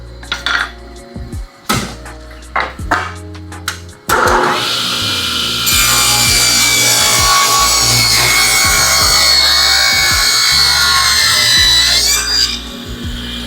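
A table saw cuts wood fed with homemade push sticks: a few sharp knocks and clatters first, then a loud, sustained whining cut lasting several seconds before the blade noise eases off.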